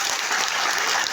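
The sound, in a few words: audience applause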